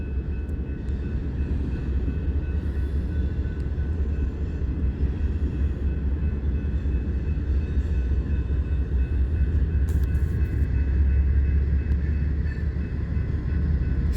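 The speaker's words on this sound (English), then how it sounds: "And we have a rear DPU on this train." A freight train with a rear distributed-power locomotive rumbles past steadily at close range, a continuous heavy low roar of wheels and engines that holds constant throughout.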